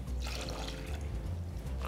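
Water poured into a small pot of sugar to make syrup for kadaif dessert, a brief soft trickle and splash heard close up in a kitchen.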